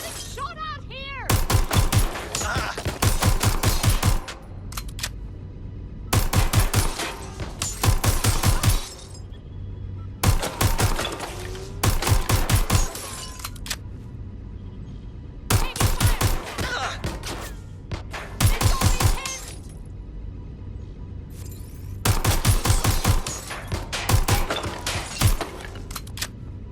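Gunfire in the video game Watch Dogs Legion comes in repeated loud bursts of rapid shots with impacts and breaking sounds, separated by brief quieter gaps.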